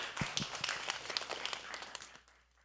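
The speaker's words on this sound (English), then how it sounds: "let's give a round of applause to our panelists" Faint audience applause for panelists at the close of a health equity panel session, a soft, scattered patter of clapping that fades out toward the end.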